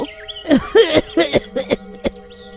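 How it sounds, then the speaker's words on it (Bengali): A human voice acts out an old village man's coughing with a handful of rough, throaty bursts in quick succession, close and fairly loud, with a brief pause before a final cough. "একটা বুড়ো লোক আসলো আর কেশে কেশে বলল"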